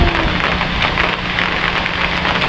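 Heavy rain pours down at Pinsal Falls in Santa Maria, Ilocos Sur, in a steady, unbroken hiss, loud and close throughout.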